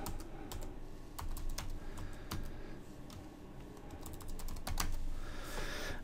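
Rapid, irregular clicking of keys on a computer keyboard as an email address is typed, in bursts of close taps with short pauses, fairly near and alone without speech.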